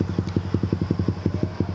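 A motorcycle engine idles nearby with a loud, rapid, even thumping pulse that stays steady throughout the short stretch.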